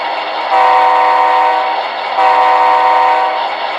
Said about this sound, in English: each blowing the horns and stuff, it can get pretty noisy pretty quick with the sound